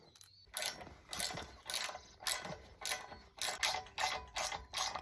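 A bolt is worked into place on a seed drill under repair, giving quiet rhythmic metallic ratcheting clicks in short repeated bursts, close by with no talking.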